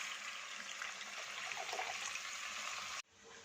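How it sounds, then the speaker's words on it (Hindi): A cup of water pours steadily into soaked moong dal in a cooking pot for khichdi, a continuous close splashing rush that cuts off abruptly near the end, followed by quieter room sound. "इसमें 1 कप पानी शामिल कर देंगे।"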